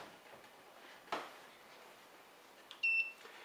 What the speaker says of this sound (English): You'll see the scale beeps